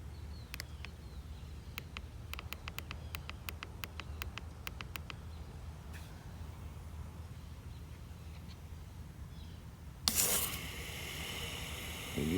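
A homemade automatic sprinkler system kicks on near the end with a sudden, steady hiss of spraying water, after a long quiet stretch with faint ticking.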